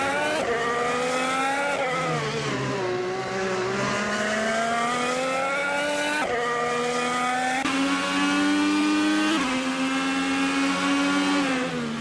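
Racing cars in a video game speed through the first turns, engines whining in steady high pitch with shifting revs and gear changes, loud and continuous with no talk.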